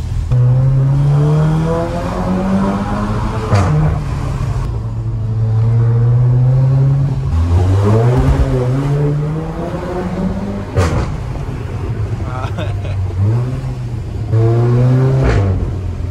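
A Seat Leon Cupra 5F with a stainless steel exhaust, in Cupra mode, roars loudly and close, revving up and down repeatedly with a deep exhaust growl and shifts in pitch.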